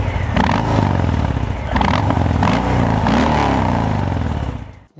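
Harley-Davidson Fat Bob motorcycle exhaust with catalysts fitted, a close, moderately loud engine burbling and revving in several pulses before cutting off at the end.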